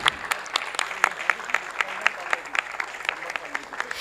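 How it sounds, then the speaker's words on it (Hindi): Audience applause at an award ceremony, with a steady run of sharp hand claps spread evenly through the clip and a voice speaking over the clapping. "तालियों की गूंज दोबारा से गुजारिश है आप सभी से, कम नहीं होनी चाहिए."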